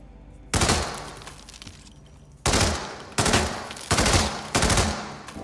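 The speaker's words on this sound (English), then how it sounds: "I was just apparently shooting through people" Assault rifle fire in the Hitman stealth game, heard as five sharp, loud bursts of automatic shots with brief gaps between them and no talking.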